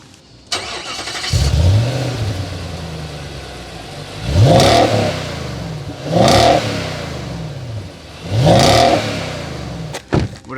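A Mercedes-AMG G63 starts up, then its engine is revved hard three times through side exhaust pipes, each loud roaring blip rising and falling, close by and alone before a final sharp burst.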